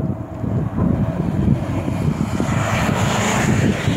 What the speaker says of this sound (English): we can hear an airplane taking off and we can see it over there somewhere